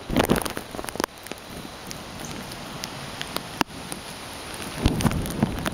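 Steady light rain from Hurricane Isaac falls in southern Alabama, a constant soft hiss broken by sharp close drips and taps, with heavier gusty patches at the start and near the end.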